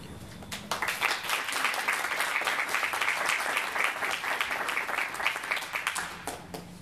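Audience at a poetry center panel applauding to welcome the moderator, a sustained wash of clapping from many hands that swells quickly, holds for several seconds, then tapers off.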